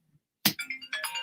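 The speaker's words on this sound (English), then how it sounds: "how in God's name does the phone still ring if I have it on airplane mode?" A phone set to airplane mode rings anyway: a short bright electronic ringtone bursts in after near silence, a few quick tonal pulses, close and fairly loud with no voices.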